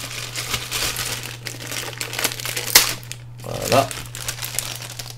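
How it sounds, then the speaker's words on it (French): Plastic packaging crinkling as cables for a Sony PlayStation VR headset are unwrapped: close, irregular crackles and rustles with a sharper snap near the middle, over a steady low hum, with a brief spoken word near the end. "nous avons d'autres cordons qui fait partie du branchement du casque que je vais aussi déballer"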